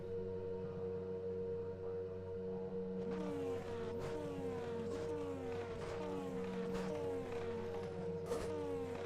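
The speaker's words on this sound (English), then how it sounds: "Revs are soon going to build, though, and we will soon be underway from the historic Hockenheimring." Race car engines idle on the starting grid at Hockenheim in an iRacing Formula Super Series race, a steady tonal drone joined by repeated rising revs from several cars, layered and continuous at moderate level.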